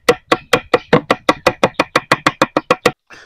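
Bananas chopped into small pieces with a knife on a board: about fifteen sharp, evenly spaced cuts in quick steady rhythm, close and crisp, followed by a softer brief scrape.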